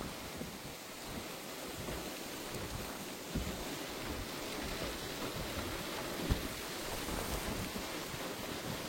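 Strong gusting wind in a Lyon thunderstorm roars steadily, buffeting the microphone, with a broad rushing noise and no talking.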